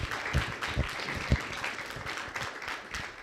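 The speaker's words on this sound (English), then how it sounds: "Give yourselves a round of applause for coming out because we have a full house here" Short burst of audience applause fills a full house at a university debate, mixing dense clapping with a few louder, close individual claps, moderately loud and steady.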